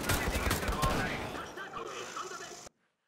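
Heavy gunfire in a video game about fighting Nazis, a dense loud barrage for the first second that thins into scattered shots and rumble before cutting off abruptly to silence.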